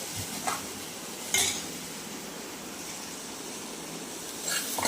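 Cooked bread pizza topping scooped from a pan into a bowl with a spoon: a few scraping clinks of metal on cookware, against steady low background hiss.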